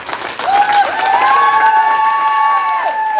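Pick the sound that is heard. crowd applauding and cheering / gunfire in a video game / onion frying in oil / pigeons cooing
crowd applauding and cheering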